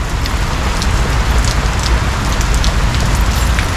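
Heavy rain pouring steadily onto surfaces outdoors, a dense, loud, continuous patter close by with no talk.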